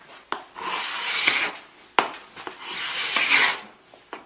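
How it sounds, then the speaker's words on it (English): Hardwood floor boards being hand scraped with a blade, two long rasping strokes each preceded by a sharp knock, loud and close with no voices. "We hand scrape all this"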